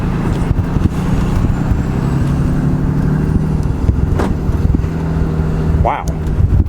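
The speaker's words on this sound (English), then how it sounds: "It's got that kind of diesel sound about it" A 2018 diesel pickup truck engine, the test truck being a Ford F250, RAM 2500 or Chevy Silverado LTZ, drones loudly and steadily from inside the cab, with a brief rising whine near the end.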